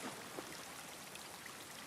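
Steady rain falls in The Last of Us Part 2, a faint, even patter of drops with no pauses and no other sounds over it.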